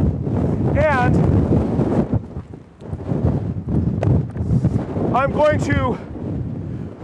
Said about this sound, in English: I'm going to record today strong wind